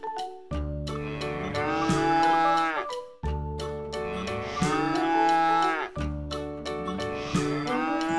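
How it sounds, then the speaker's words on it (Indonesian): A water buffalo bellows three long, deep moos in a row, close and loud, each call rising and fading before the next. "ini ada hewan kerbau teman-teman"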